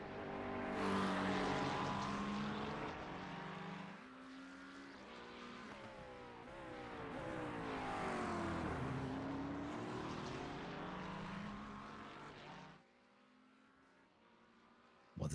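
GT race cars roaring around a racetrack in a sprint race, engine notes rising and falling as the cars pass and shift, fairly loud, then dropping away sharply near the end.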